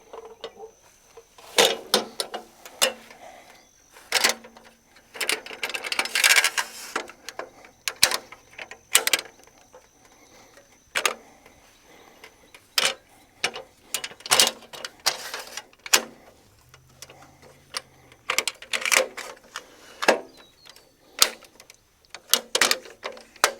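A Bauer sawhorse from Harbor Freight is folded up, producing a long series of sharp metallic clacks, rattles and ratcheting clicks in uneven bursts, close by, with brief quiet gaps between the handling noises.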